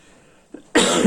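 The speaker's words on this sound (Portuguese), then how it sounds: "Vou pedindo desculpa pela tosse." A single harsh cough bursts out loud and close after a brief throat sound, alone with no talk.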